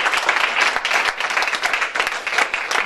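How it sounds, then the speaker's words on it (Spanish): A church congregation applauds during a Spanish-language service, dense steady clapping from many hands at close range, loud and continuous throughout with no speech over it. "Denle un aplauso al Señor Jesucristo."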